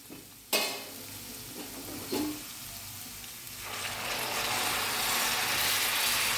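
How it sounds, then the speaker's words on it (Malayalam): Water poured into upma cooking in oil and ghee in a pan hits with a sharp burst, then a broad hissing sizzle builds and holds while the mix is stirred, with no voices. "ഇനി വെള്ളം ചേർത്ത് കൊടുക്കുന്നതാണ്."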